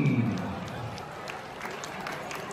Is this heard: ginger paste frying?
no